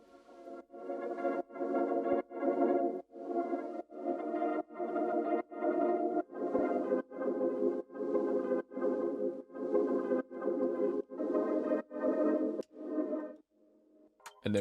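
A reversed sound sample, pitched down and processed with EQ, reverb and a portal effect for a Drake-style loop, repeats as a steady rhythm of muffled tonal pulses before cutting off abruptly near the end.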